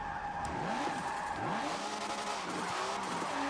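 Tires squeal as a twin-turbo Datsun 2000 slides sideways under hard e-brake in Forza Motorsport 7, with rising and falling screeches over a steady engine drone through the whole stretch.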